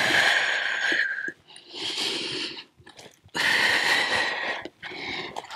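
During a floor stretch in a home workout, a person draws a long, breathy inhale close to the microphone, then after a pause lets out a slow exhale, with no talking.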